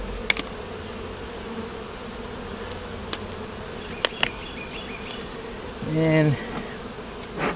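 Robber bees buzz around a weak, dying beehive, a continuous swarm hum close by with a louder bee passing near the mic, a few clicks, and a brief spoken word.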